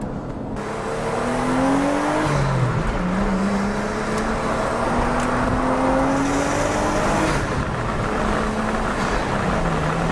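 A Nissan Skyline R33's RB25 engine revs and climbs through the rpm range, rising and falling pitch sweeps, loud and steady throughout with no talking.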